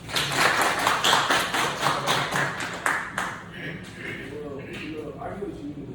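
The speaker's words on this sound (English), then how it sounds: "Clap it up for Rico." Middle school students clap for a classmate named Rico, a brisk burst of quick claps lasting about three seconds that then thins out as voices and chatter take over.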